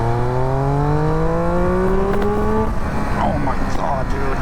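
A Triumph Speed Triple 1200 RS motorcycle pulls hard in second gear, its engine note rising steadily and loud up close for about two and a half seconds before backing off into wind rush and rumble.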